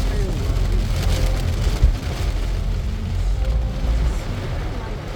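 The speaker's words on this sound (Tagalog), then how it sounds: "Oh, kusugay ulan dire bebe." Heavy rain drums steadily on a car driving along a highway in North Carolina, a dense constant wash over low road and engine rumble, with a voice speaking briefly partway through.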